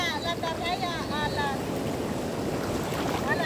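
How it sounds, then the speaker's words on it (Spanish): Sea waves wash and break around a small fishing boat out on the open sea, a steady surf roar mixed with wind buffeting the microphone, while high squeaky voice-like tones chatter over the first half. "Aquí, me pegan las olas."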